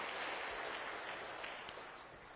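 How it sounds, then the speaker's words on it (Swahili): A crowd at a funeral gathering applauds a media director with steady, even clapping that blends into a soft, continuous wash throughout. "Tumpigie makofi Fred."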